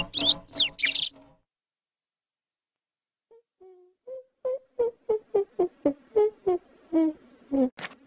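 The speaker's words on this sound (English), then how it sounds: "Tropical bird." A tropical bird calls, first with a few shrill high whistles, then after a pause a rapid series of short, evenly spaced hooting notes, close and clear against silence.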